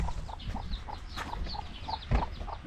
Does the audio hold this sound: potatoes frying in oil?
no